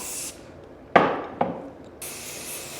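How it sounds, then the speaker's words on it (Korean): Hair spray aerosol hissing while finishing a styled hairdo with clips, heard as two short close bursts that fade out, over quiet background. "그리고 스프레이 뿌려요."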